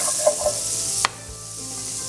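Grated garlic sizzles in melted margarine in a pan on the stove, a bright, loud hiss that cuts off abruptly after a sharp clatter about halfway through, leaving a quieter background.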